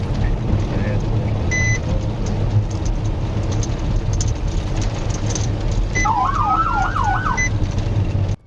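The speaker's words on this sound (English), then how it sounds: "lights flashing, siren cutting through the quiet" A police motorcycle's wailing siren rises and falls rapidly near the end, heard over a constant rumbling background of traffic noise.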